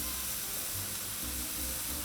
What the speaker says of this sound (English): You can see the sizzling.